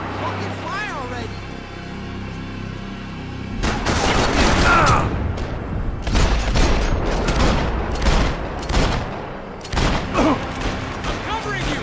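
Gunfire in the Max Payne 3 shooter: after a quieter stretch, loud bursts of rapid shots and heavy impacts break out midway and continue in repeated volleys, with voices shouting over the firefight.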